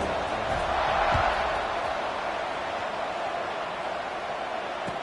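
A large football stadium crowd at a Mizzou game roars in a steady, broad wash of noise around the kickoff, with a commentator's voice over it.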